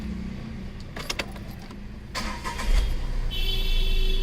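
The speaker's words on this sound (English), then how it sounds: "So let's start up the engine and see if it's made a difference." A Tata Tiago's engine cranks and fires up after a brief jangle of keys, then settles into a steady idle hum close by.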